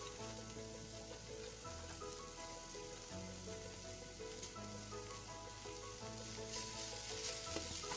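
Cabbage sizzles steadily in a pan for a moong dal curry, a loud continuous frying hiss running throughout with no talking.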